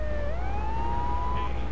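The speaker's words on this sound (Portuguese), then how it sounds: "Acho que eu não vou deixar a sirene do caminhão ligada o tempo todo não, porque é um pouco irritante." A fire truck siren in GTA 3 rises and wails steadily at close range, sounding alone against a constant low engine hum.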